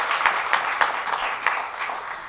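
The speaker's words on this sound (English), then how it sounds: "Doesn't that deserve a round of applause?" A symposium audience gives a brief round of applause, scattered claps sounding fairly close and moderately loud, without talk.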